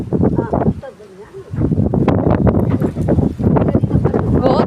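Strong wind buffets the microphone outdoors with a loud, constant roaring rumble. Voices talk over it for most of the stretch.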